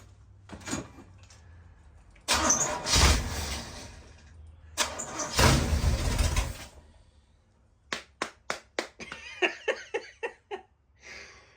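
An old bus engine starting up after fuel is pumped: two long, loud cranking-and-catching bursts separated by a pause, then a run of sharp rhythmic clanks and knocks, with no talk heard.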